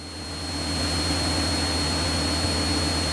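Steady, loud jet engine roar from an Embraer jet airliner rotating on takeoff, with a constant low drone and high whine holding throughout, no voices.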